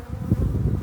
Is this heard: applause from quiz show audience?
no